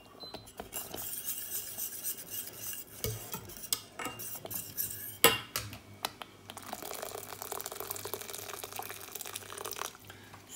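A spoon stirs broccoli tarhana soup in a pot, making faint scraping and clinking against the metal with scattered sharper knocks, quiet and close, with no talk.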